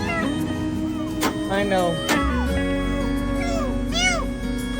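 A newborn kitten, a shop cat, meows repeatedly in thin high cries, close and clear, while a person speaks softly nearby.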